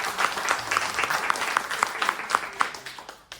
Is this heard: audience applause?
yes